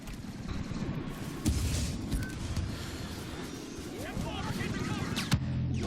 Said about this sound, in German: Hoppla, was für eine Explosion.